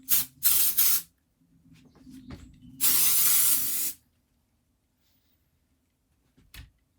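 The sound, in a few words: hair spray being sprayed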